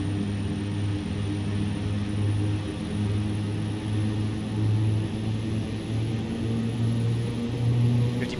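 The steady drone of a Piper Cheyenne II's turboprop engines in the X-Plane 11 flight simulator, a constant loud hum with a slowly pulsing low tone throughout.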